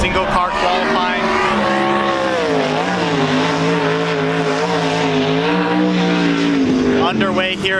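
A sprint car runs single-car qualifying at Willamette Speedway on the Western Sprint Tour, its loud engine close by and roaring continuously, the pitch rising and falling as the driver works the throttle through the laps.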